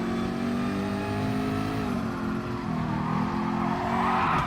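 A race car in Gran Turismo Sport slides off track into gravel on worn rear tyres, with a steady loud engine drone and rumbling, scraping tyre noise that rises toward the end.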